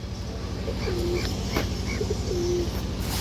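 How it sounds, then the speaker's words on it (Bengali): A pigeon gives a few soft, rounded coos, close by, over a constant humming background, with no voices. "এই যে দেখেন দর্শক কবুতরটা"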